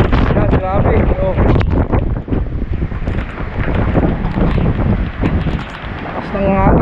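Loud, continuous typhoon wind at Signal No. 4 batters the microphone in heavy gusts, with a voice speaking intermittently over the roar.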